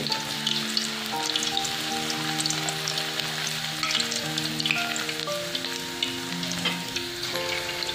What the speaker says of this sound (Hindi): सभी चिप्स हम इसी तरह से एक एक डालकर तलेंगे